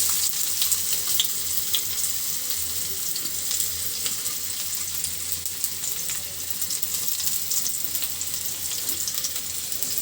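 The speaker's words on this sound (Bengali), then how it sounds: "কড়াইয়ের ভিতরে সরিষার তেল দিয়েছি, তো আর একটা পেঁয়াজ কুচি এর ভিতরে দিয়ে দিচ্ছি।" Chopped onion frying in hot mustard oil in a kadai, a steady close sizzle that runs unbroken and fairly loud throughout, with no voices over it.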